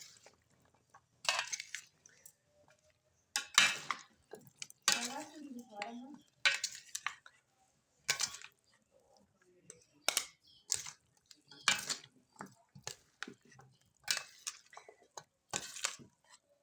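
Chana chaat is stirred with a spoon in a bowl in a series of short, close scraping and clinking bursts separated by brief pauses.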